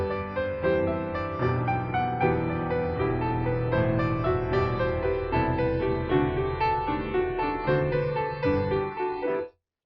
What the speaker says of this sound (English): there were no dampers, a song would sound like this.